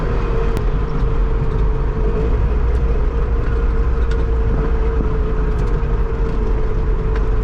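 A Trabant 601S runs while being driven, giving a steady, loud engine drone with road and cabin rumble throughout and a few faint clicks, no talk.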